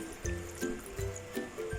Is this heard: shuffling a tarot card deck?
no